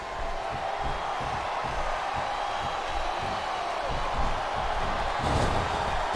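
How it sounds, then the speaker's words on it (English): Wrestling arena crowd in WWE Smackdown vs Raw 2007, a steady dense roar of many fans filling the whole stretch with a rhythmic pulsing undertone, swelling slightly near the end. "Sounds like this crowd's got something on their minds"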